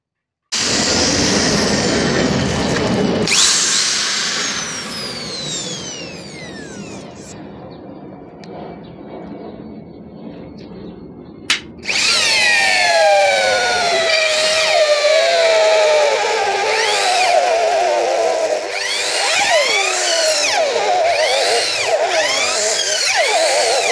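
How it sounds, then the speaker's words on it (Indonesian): A power drill at top speed in drilling mode bores into ironwood with a 19 mm auger bit: a loud, sustained whine that dips, cuts out briefly, then surges back with sweeping, rising and falling tones. "Kita akan mengebor, untuk medianya adalah kayu tram besi."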